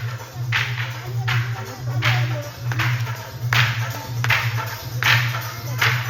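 Hands clap in a steady, evenly spaced rhythm, about one sharp clap every second, at a New Year celebration in Sauraha, over a constant low hum of background music.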